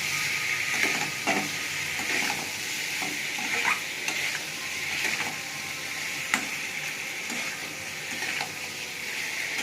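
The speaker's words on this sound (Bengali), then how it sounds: "ভালো করে মশলাটা কষে নেব।" Ginger, cumin and green chilli paste frying in a pan, with a steady sizzle under repeated scraping strokes of a spatula stirring the spice mix, close and moderately loud, no voices.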